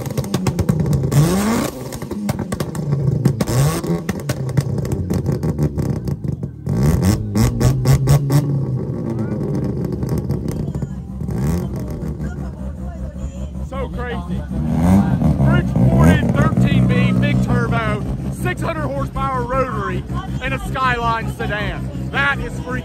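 A rotary-engine swapped Nissan Skyline at a car show in Thailand revs loudly in sharp bursts and brapping idle, close by, with crowd chatter and a talking voice over parts of it.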